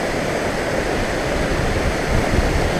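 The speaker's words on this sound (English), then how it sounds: "At the very bottom we got this waterfall." A waterfall at the bottom of a mountain trail near Lake McDonald pours in a constant, dense roar of rushing water, loud and close, with no breaks or voices.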